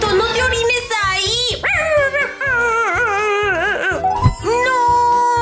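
A cartoon puppy in a video game whimpers and yips in long, sliding, whiny cries over a steady, thumping backing beat, with a brief sharper yelp near the end.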